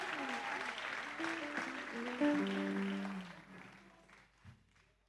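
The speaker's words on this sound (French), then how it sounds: "j'aimerais demander que vous applaudissiez pour vous-même" Audience at a live slam poetry show at the SLAMOUV festival applauding, a steady wash of clapping that fades out, with a performer's voice over it.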